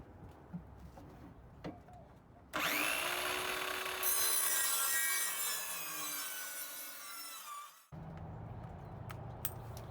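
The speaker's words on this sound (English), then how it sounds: "I'm going to take my saw, cut it" A saw cutting through a wooden stake for a trail camera mount, a sustained harsh rasp of several seconds between quieter pauses, close to the microphone.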